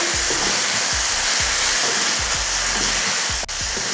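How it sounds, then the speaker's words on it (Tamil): Capsicum, onion and tomato fry loudly in a pan, a dense steady sizzle heard up close with low thumps from stirring. "இப்போ இதையை வதக்கிடுவோம்."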